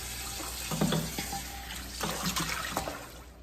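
Tap water pours into a sink as leafy greens are rinsed, a steady close splashing with brief bursts of sloshing and dribbles, no voices over it.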